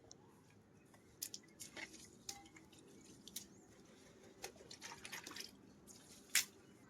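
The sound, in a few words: water poured by hand onto bricks, dripping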